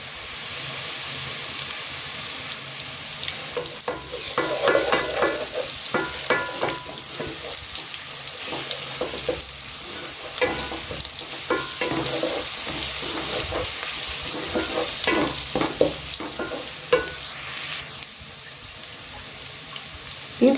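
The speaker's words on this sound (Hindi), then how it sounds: "प्याज जो है मीडियम टू स्लो फ्लेम पे हम जो है वो लाइट ब्राउन कर रहे हैं" Sliced onions with added garlic fry steadily in a pan over a medium-low flame for an Aloo Matar sabzi, giving a continuous bright sizzle broken by repeated scraping and stirring strokes.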